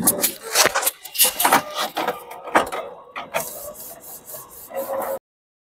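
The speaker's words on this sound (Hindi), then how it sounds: "देखिए दोस्तों हमारी प्रिंट आ रही है ये प्रिंट आ चुकी है" An inkjet printer feeds and prints a PVC ID card, giving repeated scraping, rasping mechanical passes with rhythmic bursts of carriage motion, close-up, ending abruptly in silence.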